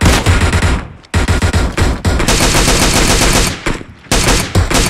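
Dense, loud automatic gunfire from PUBG Mobile rattles almost continuously in rapid bursts, broken by a few brief gaps, with no voices over it.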